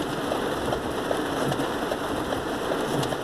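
Steady rain falls outside on a rainy day, a constant close hiss with scattered drips and patters and no voice, continuous for several seconds.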